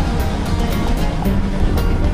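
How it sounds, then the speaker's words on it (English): An off-road vehicle on the Mojave Road ploughs through water to rinse soda off its undercarriage, a loud, continuous rush of splashing and churning water with engine noise beneath. "I went in the water just to try to get some of that soda off"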